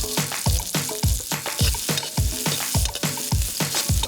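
Garlic and onion sizzle in a hot pan for Poqui Poqui soup, the frying punctuated by steady, rhythmic stirring scrapes roughly twice a second, close and loud with no talking.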